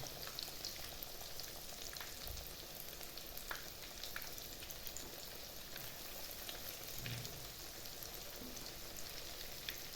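Flattened chicken gizzards frying in a skillet, giving a constant dense sizzle and spatter like rain, quiet and even across the whole stretch, with no talking.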